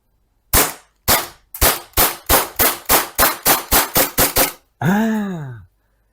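A gas BB pistol rebuilt from old spare parts fires at a target, twelve loud sharp shots in a quick steady rhythm at close range, followed by a short hissing gas release.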